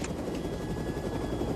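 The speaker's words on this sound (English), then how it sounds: "I want you to land this helicopter." A helicopter in flight in an action movie gives a steady, fairly loud rotor and engine drone with a thin high whine, continuous and unbroken, with no speech over it.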